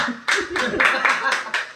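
An audience claps for a bhajan singer at a devotional gathering, a short burst of several sharp claps in an irregular rhythm, loud and close.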